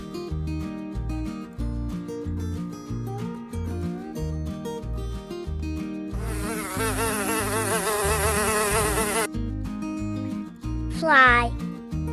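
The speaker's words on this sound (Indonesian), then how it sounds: "Fly." A housefly buzzes loudly and continuously for about three seconds over a bouncy rhythmic music backing, followed later by a short squeaky chirp.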